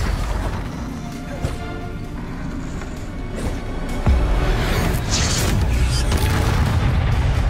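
Loud spell blasts from Bombarda casting in the Hogwarts Legacy game, fighting in a haunted mansion: repeated booming impacts over a constant clatter of combat, with a heavier, sustained explosive rumble kicking in halfway through.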